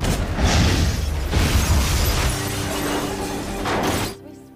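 A loud film explosion from a fired RPG bursts with a shattering boom and crackling debris, then rumbles for a few seconds before cutting off abruptly.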